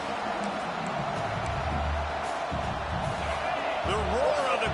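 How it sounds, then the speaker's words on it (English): A stadium crowd in NCAA College Football 26 roars as a steady, dense wash of noise throughout, with a voice talking over it and a few low thuds underneath. "The roar of the crowd trying to fuel this defense to keep them pinned in their own end"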